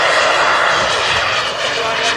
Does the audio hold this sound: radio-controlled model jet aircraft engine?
yes